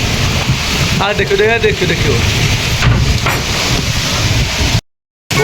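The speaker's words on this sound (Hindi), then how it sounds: "अखन देखो हवा देखियो कते जोर जोर से, और मेघो करेक रहल छै" Strong storm wind roars steadily through a village at Ghat Bhatra during a heavy rain squall, with someone speaking over the gusts; no distinct thunder crack stands out, and the sound cuts off briefly near the end.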